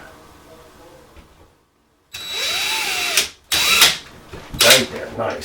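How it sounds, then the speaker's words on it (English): A power drill bores holes for mounting a mason jar light fixture, running in several loud, close bursts of a few seconds each with brief pauses between them. "I know that I'm drilling holes where once I have my light fixture up"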